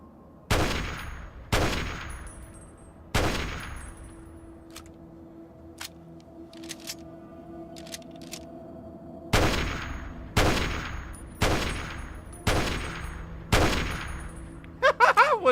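Gunshots in a video game ring out singly at a measured pace, each a sharp crack with a decaying tail, pausing mid-way before a second run of evenly spaced shots, loud and close.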